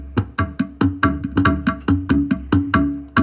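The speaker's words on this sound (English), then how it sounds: "I first started out with the drums and programming those in with a Middle Eastern sound, and it sounds like this." Programmed drums with a Middle Eastern feel play a quick, steady pattern of punchy hand-drum hits, about a dozen loud strikes in a driving rhythm with no voices.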